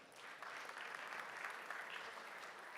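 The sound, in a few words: audience applause welcoming a speaker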